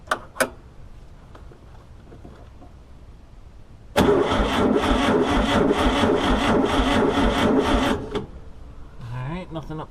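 A 1966 Volkswagen Karmann Ghia engine, parked for years since 1984, cranks loudly and steadily for about four seconds without catching after a few faint clicks; a voice starts to speak right as the cranking stops.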